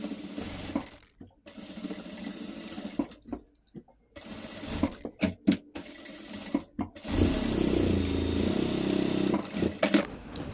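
A sewing machine stitching the back opening of a princess-cut blouse: short bursts of mechanical whirring and clatter, then a longer steady run near the end, close and fairly loud, with no talking.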